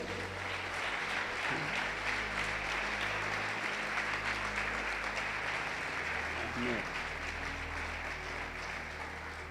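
A church congregation claps for the Lord, a continuous dense roar of applause with voices and a low musical drone running beneath it the whole time.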